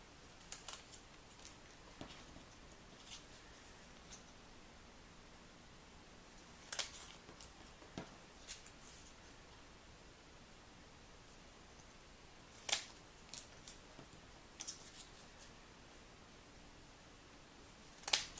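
Cardstock pieces being cut in half with scissors for candy corn punch art, heard as a series of faint, sparse snips spread over a quiet, hissy background, with a few sharper cuts standing out.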